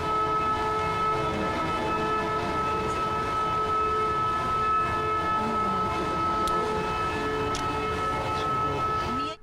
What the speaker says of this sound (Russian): Звук сирен, оповещающий об общей эвакуации в химически опасном объекте акционерного общества «Водоканал».